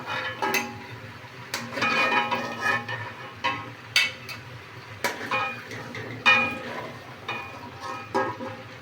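Fried chicken roast pieces lifted out of a pan on a low gas flame, with repeated metal utensil clinks and scrapes against the pan over a soft sizzle.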